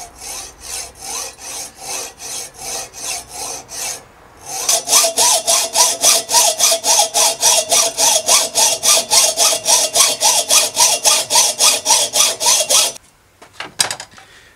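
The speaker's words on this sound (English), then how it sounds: "If you're using a hacksaw, a good way to guide a cut is to just get an old junk stem" Hacksaw cutting through a bicycle steerer tube on a vintage Scott mountain bike, guided by an old clamped stem: steady rhythmic back-and-forth rasping strokes, slower at first then faster and louder, ending with a few scattered scrapes.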